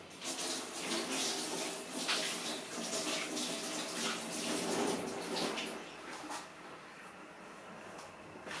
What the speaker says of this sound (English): I just wash my hands and very quickly.